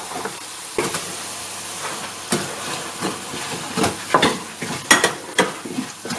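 Chili powder stirred into garlic and ginger fried brown in oil for a Kerala-style fish pickle, a soft continuous sizzle with scattered scraping stirs that grow busier toward the end, no talking.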